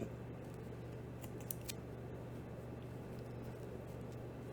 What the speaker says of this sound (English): Or we just don't fight with it and we just snip it.